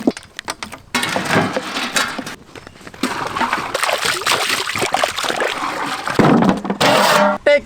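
Water sloshes and splashes in uneven bursts and pours while a whole goat is prepared for crispy fried mutton, with scattered thunks and pauses between the splashes.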